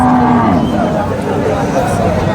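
Cattle at the Chougachha livestock market in Jashore, with one drawn-out moo near the start over a constant broadband din of the crowded haat.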